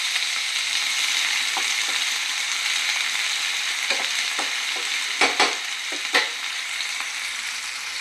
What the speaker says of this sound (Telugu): ఈ ఆనియన్స్, పచ్చిమిర్చి కొంచెం గోల్డెన్ బ్రౌన్ కలర్ వచ్చే వరకు ఫ్రై చేసుకోవాలి